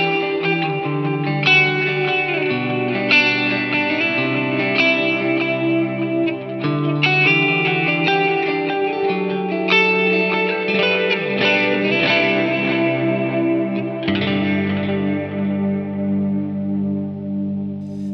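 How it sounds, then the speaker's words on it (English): An electric guitar played through an HX Stomp with an ambient, unsaturated pad-like effect, set low in the mix with a long decay, rings out in sustained layered chords that wash and trail into reverb, alone without talk. "though it is an ambient sound, it's not saturated. It's actually a little bit low in the mix and higher in the decay, creating a pad-like sound"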